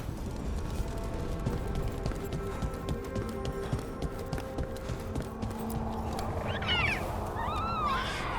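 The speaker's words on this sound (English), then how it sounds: "Sneaky little cat." A cat in Dragon Age: The Veilguard gives a couple of short meows near the end, after a stretch of steady footsteps and game background sound.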